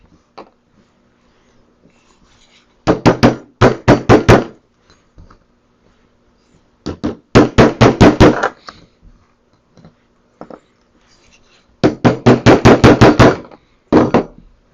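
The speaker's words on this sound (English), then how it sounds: "we're going to lock this in place by getting our punch and our hammer, and then tap it back into place" Sharp metallic hammer taps on a punch in quick bursts of five to eight strikes, separated by pauses, with a few isolated single taps between, locking a BMX freewheel in place. Close and loud.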